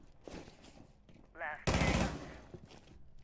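A gunshot fired through a wall in a first-person shooter, arriving as a sudden loud broadband blast followed by a rattling burst of shots that fades out, with a brief whine before it and low game noise around it.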